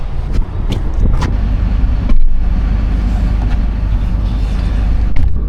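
A truck engine idles and warms up on a cold morning at about 40 degrees, a steady low rumble close by with a few sharp clicks and knocks over it.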